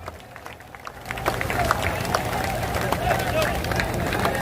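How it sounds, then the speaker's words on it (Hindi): An audience claps in welcome for party president Manoj Bharti, the applause swelling after the first second into steady, moderately close clapping from a crowd, with a speaker's voice over it. "मैं एक बार चाहूंगा कि सब लोग ताली बजाकर स्वागत कीजिए"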